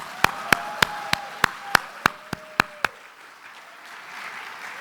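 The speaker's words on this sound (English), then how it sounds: "Another big round of applause for Pa Edwin and Pa Boy," Alumni summit audience clapping: about ten sharp, evenly spaced claps ring out in a steady rhythm, close and crisp, then stop, leaving only a low room hum.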